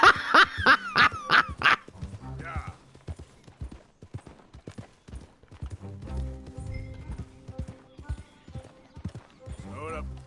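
Horse hooves clip-clopping in Red Dead Redemption 2, uneven bursts of hoof strikes mixed with game effects, a sharp dog-like yelp and other clatter, fairly loud and close, with some voice in the background.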